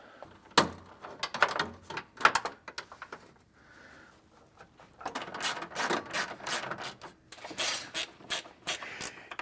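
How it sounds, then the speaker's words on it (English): Box end ratchet wrench working on the radiator mounting hardware of a 2011 Toyota Tundra: quick, crisp clicking bursts close by, a pause with faint rustling in the middle, then a longer stretch of steady ratcheting with no speech. "They're the box end ratchet wrench."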